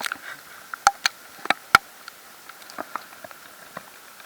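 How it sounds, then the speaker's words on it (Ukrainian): Heavier hail striking nearby surfaces in sharp, irregular ticks and taps, some louder hits standing out over a faint, steady background hiss. "І град падає, капець почався."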